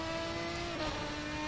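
Ferrari 550 GT1 race car engine in the racing game GTR2 at Donington, a steady loud drone with sustained harmonic tones, held at constant pitch for a second and a half.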